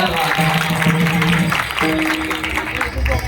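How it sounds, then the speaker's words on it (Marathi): An audience at a bharud performance in Pune district claps for a visiting maharaj, a short burst of applause mixed with crowd noise and tonal voices or instruments over it. "त्यांच्यासाठी एकदा जोरदार टाळ्या"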